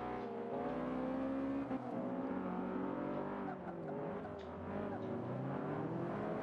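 Subaru with four-wheel drive racing in Forza Motorsport 5, its engine droning steadily with rising and falling pitch as it accelerates and shifts, loud and continuous throughout, with a voice faintly beneath.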